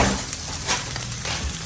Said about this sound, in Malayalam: ബോയിൽ ചെയ്ത ചിക്കൻ, പ്യാസ് കുറച്ച്, സവാള, പ്യാസ് ഇളക്കി കൊടുക്കുക.